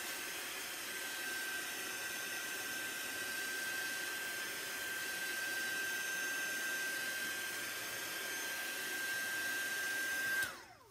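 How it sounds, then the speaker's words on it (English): A small heat tool blows steadily while drying distress ink on paper, giving a continuous whooshing hum with a thin whine that holds for about ten seconds and cuts off near the end. "So I have my little heat tool here."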